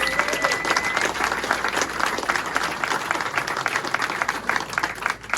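Loud, dense applause from a large audience, steady clapping throughout with a faint murmur of voices mixed in.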